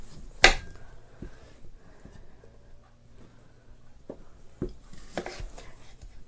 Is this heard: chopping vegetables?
yes